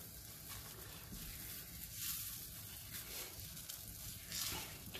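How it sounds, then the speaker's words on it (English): Eggs with sweet Maui onions cooking in a pan while being stirred, a soft continuous sizzle and hiss at low volume with faint scraping throughout. "Just going to keep stirring this until it's cooked fully."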